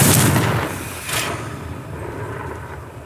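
A Confringo spell in Hogwarts Legacy bursts with a heavy booming blast at the start, followed by a second thud and a rumbling tail that fades away.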